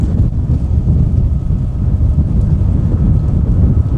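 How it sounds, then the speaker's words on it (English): Strong wind gusts buffet the microphone near an abandoned railroad tunnel, a loud, continuous low roar with steady rumbling throughout and no talking. "Oh, it just got super windy."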